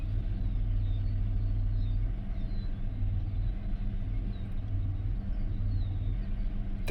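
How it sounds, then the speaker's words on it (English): A car engine idling with a misfire, a steady low rumble with a slightly uneven pulse running throughout, close and continuous with no talking. "However, I can feel a misfire. Can you hear it?"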